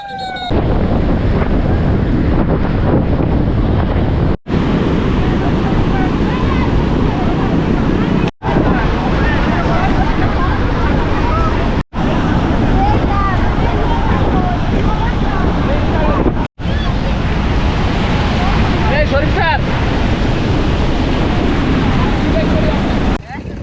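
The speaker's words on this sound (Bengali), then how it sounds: "কি বড় ঢেউ" Loud, roaring surf and strong wind buffet the microphone continuously at Cox's Bazar beach during a storm, with a few abrupt dropouts; big waves churn and crash close by.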